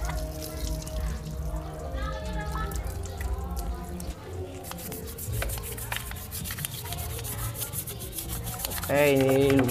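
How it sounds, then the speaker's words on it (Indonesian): Water and soapy water rinse over a crusted engine block being cleaned, a steady splashing and rubbing wash with dripping, running continuously throughout. "Oke, jadi langsung saja kita bilas."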